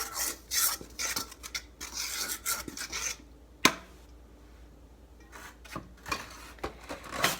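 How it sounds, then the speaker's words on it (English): A big spoon or spatula stirs chocolate cake ingredients with instant chocolate pudding in a bowl, making irregular close scraping and rasping strokes with brief pauses and a sharper knock midway. "I usually just take a big spoon or a spatula and I just sort of mix all of those ingredients together"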